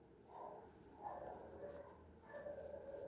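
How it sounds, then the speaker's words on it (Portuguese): Neighbours' dogs bark and yelp in the distance, faint and muffled, a few howling barks overlapping one another against a quiet indoor background. "Os cachorros vão começar a latir, dos vizinhos."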